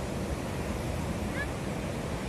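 Continuous broadband surf and wind noise of ocean waves on a beach fill the clip, steady and fairly close with no distinct break or pause.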